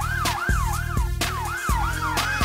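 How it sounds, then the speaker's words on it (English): Loud cartoon police Hummer siren cycling through smooth up-and-down wails over a regular beat of horn-like blasts, alone without speech. "Police Hummer."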